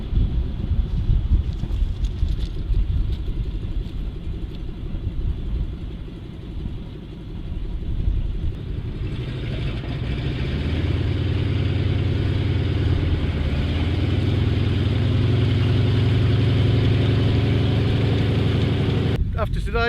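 The engine of a Sherman tank runs as a loud, continuous low rumble with wind buffeting the microphone, deepening and growing heavier midway as it revs up, with no speech.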